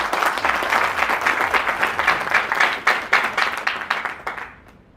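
A training-session audience gives loud, dense applause up close, a busy patter of clapping hands that swells and then tapers off to silence at the end.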